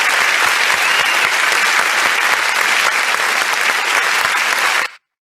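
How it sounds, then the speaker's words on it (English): Audience applause fills a youth dialogue event in Lagos, a loud, steady wash of clapping from a large crowd lasting about five seconds before cutting off abruptly. "Ladies and gentlemen, a round of applause"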